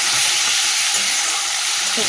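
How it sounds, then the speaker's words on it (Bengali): Onions fry in hot oil with a loud, steady sizzle and crackle that fills the whole moment without a break. "পেঁয়াজটা ওদিকে ভাজা হবে"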